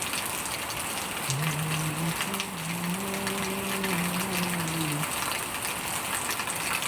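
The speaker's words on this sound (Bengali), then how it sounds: "দেখুন কত পরিমাণে বৃষ্টি হচ্ছে" Heavy rain falls steadily in a dense, even hiss that fills the whole clip, while a faint sung melody drifts underneath in the middle.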